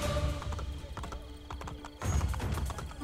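Horse hooves clip-clopping in Assassin's Creed Brotherhood, a steady run of quick hoof beats under faint game ambience and rustle, with a slight surge partway through and no talking.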